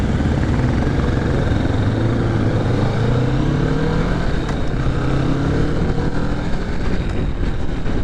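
A 2023 Kawasaki Vulcan S motorcycle engine sounds continuously while riding, a loud, steady drone with rising and falling pitch as the revs change, with wind noise and no talking.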